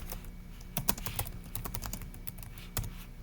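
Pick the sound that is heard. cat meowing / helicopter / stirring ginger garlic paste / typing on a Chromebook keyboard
typing on a Chromebook keyboard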